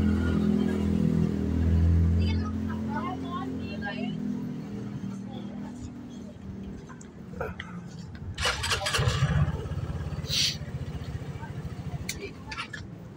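An Easyride 150fi motorcycle with a battery fault cranks and fires, its engine settling into a low rumbling idle, with a few sharp clicks and revs later and someone talking throughout.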